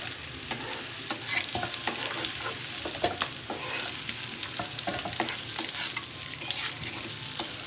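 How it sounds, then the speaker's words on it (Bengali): Meat and gizzard pieces fry in a pan for a jackfruit curry at home, giving a continuous close sizzle broken by frequent sharp scrapes and clicks of a stirring spoon, with no talking. "এই যে দেখেন কত সুন্দরভাবে ভাজছি"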